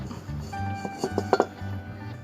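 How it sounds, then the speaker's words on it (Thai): A frying pan is set on the stove: a few light metallic clinks and knocks of cookware, clustered in about a second, close by against a quiet background. "ตีก็ตั้งกระทะเลยนะครับ"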